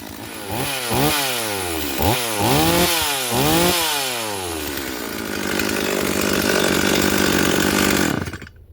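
A Holzfforma G028 chainsaw with a 16-inch bar runs loud and close, revving up and down in several rising and falling bursts before settling into a sustained high rev, then cutting off abruptly.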